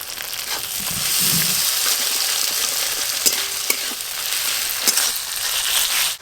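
Ginger paste and chopped tomato hit frying onions in a pan with a loud, continuous sizzle, broken by a few sharp crackles and pops partway through.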